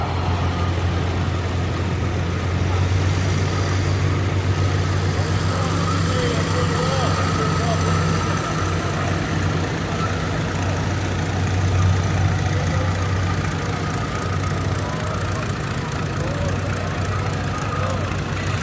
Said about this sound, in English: This is a John Deere Model 60.